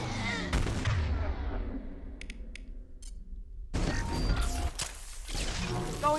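Gunfire from a Mass Effect 2 firefight, including sniper rifle shots, lands as loud, heavy booming reports with a mechanical clatter, broken by a brief quieter gap before the shooting resumes.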